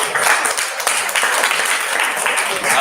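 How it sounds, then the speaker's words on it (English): An audience at a medical students' equipment training day claps for a presenter, a dense, even patter of many hands lasting the whole stretch without pause. "Let's first give a hand clap to him."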